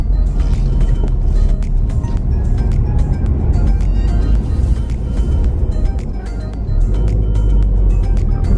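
A turbocharged JDM Subaru Forester accelerates hard, its engine a loud, sustained rumble that holds steady with slight shifts in tone and no talk over it.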